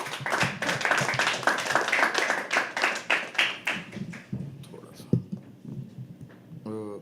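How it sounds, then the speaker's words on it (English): A small audience at a live poetry open mic claps in a scattered, fading burst of applause for the final act, with light murmuring and a quick tapping sound near the end. "Keep the applause going for the final act of the evening"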